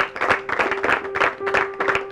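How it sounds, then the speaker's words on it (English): At a school assembly honouring award winners, a crowd claps briskly in uneven bursts, fairly close and loud, with a faint steady tone running underneath. "Clap for them once again."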